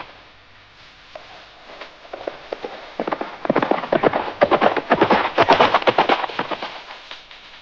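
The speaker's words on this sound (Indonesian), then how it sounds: "mereka pun berkuda meninggalkan goa" Horses' hooves clip-clop on the ground as riders leave a cave, starting faint and building to a loud, close, busy clatter of many overlapping hoofbeats.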